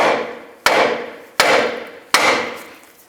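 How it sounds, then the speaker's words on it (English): Three sharp metal hammer taps on a tie rod end of a 2005-15 Nissan Xterra land about a second apart, each ringing briefly and fading before the next strike, close and loud. "you can just take a hammer, give it a tap right here"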